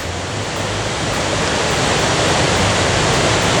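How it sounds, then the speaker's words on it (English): Victoria Falls (Mosi-oa-Tunya) on the Zimbabwe side thunders as a steady, dense broadband roar of falling water, constant and overwhelming with no other sounds. "I am filming the waterfall."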